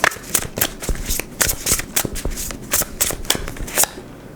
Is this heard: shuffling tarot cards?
yes